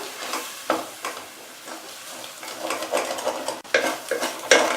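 A spoon stirs condensed milk and milk in a pan over a low flame, irregular scraping strokes against the pan bottom with soft sizzling underneath, close and moderately loud.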